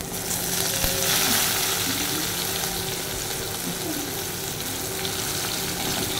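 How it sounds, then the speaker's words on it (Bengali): Chopped onions fry in a pan over a village-style stove as part of a crab curry, a dense continuous sizzle with occasional soft stirring scrapes, close and steady, with no talking. "এবার দেবো এতে কুচিয়ে রাখা পেঁয়াজ"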